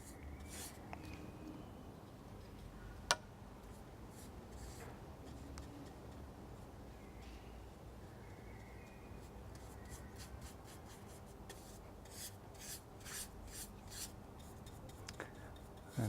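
A brush spreads translucent coating across a wooden bench, giving a soft continuous scratchy rubbing with faint ticks, close but quiet, with no talking.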